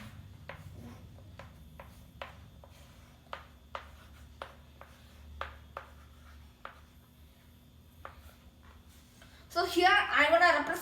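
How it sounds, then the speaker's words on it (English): Marker or chalk strokes tapping and scratching on a classroom board as decimal numbers are written, a steady series of short, sharp ticks over quiet room tone, ending in a brief louder rustle. "So here I'll write some decimal numbers."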